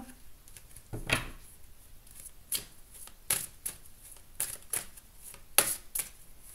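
A deck of tarot cards being cut and shuffled by hand, with a series of crisp riffling swishes and soft taps spaced irregularly, close and moderately quiet.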